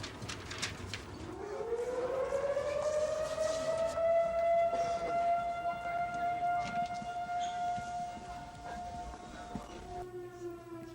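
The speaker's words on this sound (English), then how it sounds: "in Montgomery, sirens sounded the warning." A tornado warning siren wails steadily in the distance in Montgomery, its rising and falling tone carrying over faint outdoor background noise.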